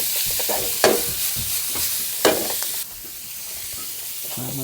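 Minced pork sautés in a pan with a steady bright sizzle, broken by two sharp spatula scrapes and stirring clatter, close and without talk.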